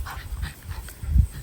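Wiener dogs barking at neighbors in short, muffled, irregular yips and woofs, fairly close, with a louder bark near the end.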